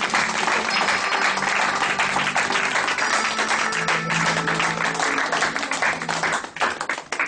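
A church congregation applauds and cheers for Jesus during a French-language worship service, with sustained, dense clapping filling the room at steady loudness throughout, thinning slightly near the end.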